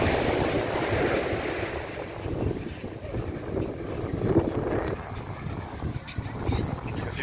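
Waves wash onto Browns Beach in the Carlisle Bay area of Barbados, a steady roaring surf mixed with strong wind buffeting the microphone, with faint voices in the background.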